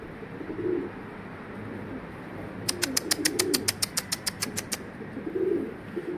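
Pigeons on a rooftop coo softly in low repeated bursts, and partway through a quick run of sharp wing claps rings out nearby as a bird takes off or lands.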